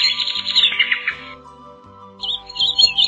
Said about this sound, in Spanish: Muy frecuente y ruidoso el mirlo común.